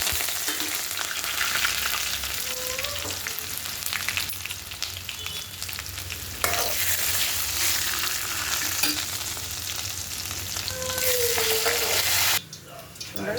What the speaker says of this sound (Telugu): అంతా ఒట్టుగా వేసుకుని నేను తాలింపు పెట్టుకుంటాను